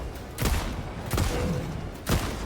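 Gunfire in Helldivers 2: three loud, sharp bursts of shots, spaced roughly a second apart, with a rough noisy wash between them and no talking.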